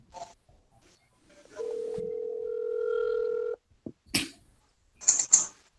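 Telephone line during a call being placed: a few faint clicks, then a steady dial tone held for about two seconds, followed by sharp clicks and short bursts of noise.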